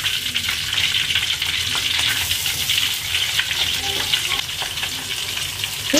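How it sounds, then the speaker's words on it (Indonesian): Keranjang fish frying in hot oil, a dense continuous sizzle and crackle with occasional stirring, close and steady throughout. "Lanjut saya goreng ikan keranjang sisanya ya."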